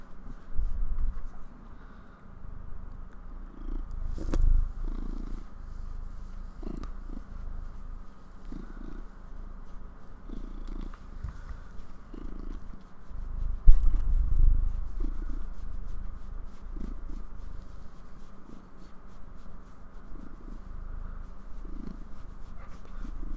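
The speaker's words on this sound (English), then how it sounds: "I don't know if you guys can hear Malcolm purring" Soft, steady purring from a cat nearby, a low rumbling texture that continues throughout with occasional faint rustles.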